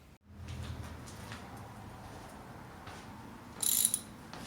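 A 3/8 inch socket ratchet works on the windscreen bolts of a Harley motorcycle, giving a steady close run of clicking for a few seconds, with a sharper burst of ratcheting near the end.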